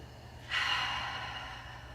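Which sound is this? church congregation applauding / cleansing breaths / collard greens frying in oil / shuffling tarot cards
cleansing breaths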